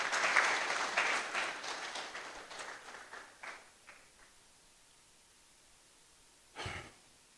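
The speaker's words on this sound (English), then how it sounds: "Clap for them for me, please." Applause from a lecture audience, a burst of clapping that fades away over a few seconds, then a brief short rustle or clap near the end.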